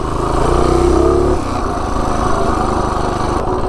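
A Predator 224 small engine with a 28mm clutch, fitted to a Ghost Buster build, roars loudly up close under acceleration, its pitch climbing and then dropping back to a steady rumble.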